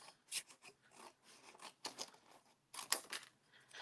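Scissors cut straight through paper in a series of short, crisp snips and slices with brief pauses between them. The sound is close and quiet.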